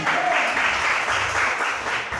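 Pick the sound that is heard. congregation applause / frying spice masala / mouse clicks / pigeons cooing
congregation applause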